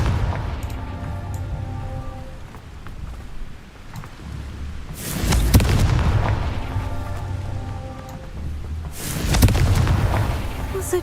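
Two booming spell explosions from Confringo in the video game Hogwarts Legacy burst out several seconds apart over a rumbling game ambience, each loud and close with a crackling tail.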